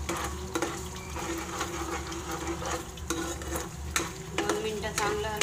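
Spices, turmeric and salt being stirred into hot oil for egg curry, a steady sizzle with scraping and occasional clinks of the utensil against the pan throughout.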